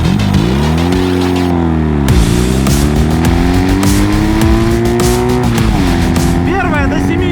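A Ural motorcycle pulling hard through the gears, its loud close engine note climbing in pitch, dropping at each shift and climbing again, with voices faintly over it.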